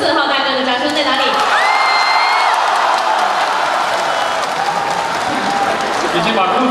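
Audience clapping and cheering at a stage show in Zhangjiajie, Hunan, China, a dense, loud wash of applause with whoops running the whole stretch while a voice talks over it.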